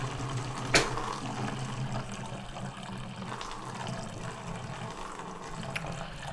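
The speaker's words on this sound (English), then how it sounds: "I'm pissing in an empty Volvic bowl of flavoured water." A man urinating into an empty plastic bowl that held flavoured water produces a steady, close splashing trickle of liquid that lasts throughout.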